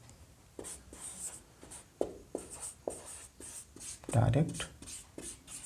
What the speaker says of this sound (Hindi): एक तरफ लिखते हैं इनडायरेक्ट।